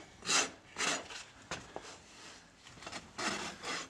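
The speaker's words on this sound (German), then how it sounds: "Das Feilen ist dafür wichtig, um den Wandverlauf gerade zu machen" A farrier files a horse hoof with a hoof rasp while shoeing, smoothing the bearing edge of the hoof wall. Close, rhythmic rasping strokes come roughly every half second, with a few quieter scrapes between them.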